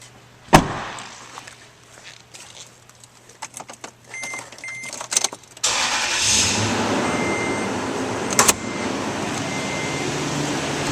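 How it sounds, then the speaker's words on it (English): A 2005 Toyota Tundra SR5 double cab 4WD: a door thump and cabin clicks, then the engine cranks and catches around midway, settling into a steady, fairly loud idle with one sharp knock later. "Now we'll start up this vehicle."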